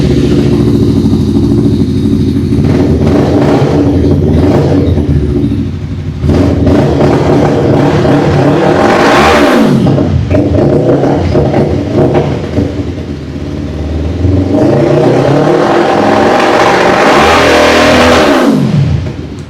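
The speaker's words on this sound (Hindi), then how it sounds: "बाइक बड़ा ज़बरदस्त किस्म का साउंड निकालता है" A heavy cruiser motorcycle engine with EFI revs hard again and again, rising to loud roaring peaks and dropping back to a rumbling idle between blips.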